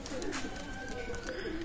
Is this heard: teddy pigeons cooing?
yes